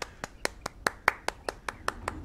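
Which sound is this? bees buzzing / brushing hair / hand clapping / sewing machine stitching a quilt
hand clapping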